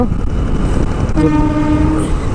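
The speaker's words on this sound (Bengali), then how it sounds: "পাশ দিয়ে মাল ট্রেন যাচ্ছে" A freight train rolls past alongside a road in Bihar during a 125cc motorbike ride, its steady loud rumble filling the scene while sustained horn tones sound over it.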